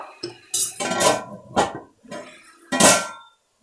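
Metal pot and lid clank together in several sharp, close knocks and scrapes as the lid goes on a pot of chicken with turmeric and salt, ending with a ringing clang as the lid settles.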